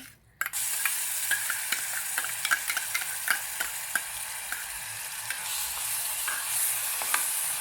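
Ground masala paste fries in oil in a pan for prawn curry, a strong continuous sizzle broken by repeated clicking strokes of a stirring spoon against the pan.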